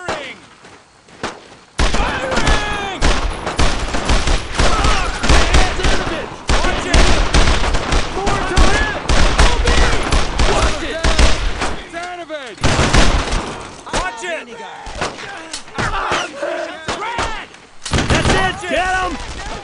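Gunfire from the World War II shooter Brothers in Arms: Road to Hill 30 rattles in loud, dense bursts of rifle and machine-gun shots, broken by short pauses.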